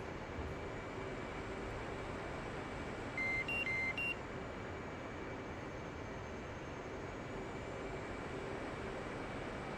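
Autopilot disconnect warning in a flight simulator cockpit during a carrier landing approach, a short run of high electronic beeps over a steady engine drone.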